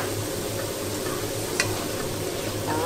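Tomatoes and onion fry in a pan with tofu being added, a steady close sizzle broken by the occasional scrape and clack of a utensil stirring, with no talking.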